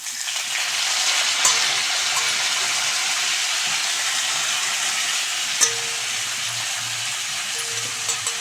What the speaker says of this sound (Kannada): ಇದನ್ನು ನಾವೊಂದು ಬಾಣಲೆಗೆ ಸ್ವಲ್ಪ ತುಪ್ಪ ಹಾಕ್ಬಿಟ್ಟು ತುಪ್ಪಕ್ಕಾದ ನಂತರ ಸ್ವಲ್ಪ ಫ್ರೈ ಮಾಡ್ಕೊಂಬಿಡ್ಬೇಕು